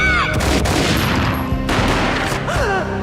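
Gunfire from the PS2 game Max Payne fills the clip as a dense, loud barrage of booming shots over an effects-heavy game soundtrack.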